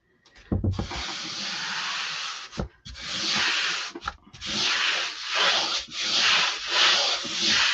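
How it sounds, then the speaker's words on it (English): Steady rubbing strokes as a silk screen stencil is burnished onto an 18 x 24 chalkboard, a close dry scraping hiss in several long passes with short pauses between them, no talking. "So I'm just gently burnishing it, making sure there aren't any bumps or bubbles in my silk screen area."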